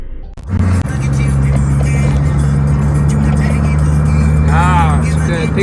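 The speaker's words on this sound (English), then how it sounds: "Heading to thicker road. Try to see how this car is performing." A car converted from carburetor to electronic fuel injection drives along a rough road, its steady engine drone and low rumble continuous and close throughout, with a brief rising whine near the end.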